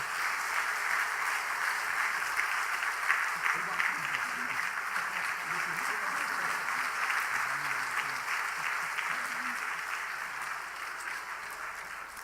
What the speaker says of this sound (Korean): 한번 박수 한번 다시 한번 뜨겁게 하십시다.